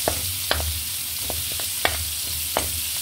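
Garlic and onion fry in rendered pork fat for vegetable adobo, a steady close sizzle broken by a few sharp clinks of a utensil stirring the pan.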